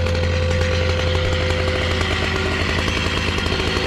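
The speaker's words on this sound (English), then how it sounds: "running the big boy saw" A large chainsaw runs steadily at high revs while cutting firewood outdoors, a loud continuous engine drone with a strong low hum and no breaks, close to the listener.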